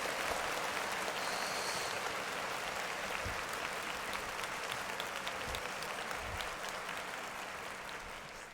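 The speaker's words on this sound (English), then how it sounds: "we're gonna clap it up for my boy Steve Lacy though" Steady, dense applause from an audience fills the whole stretch, a continuous wash of clapping that tapers slightly toward the end.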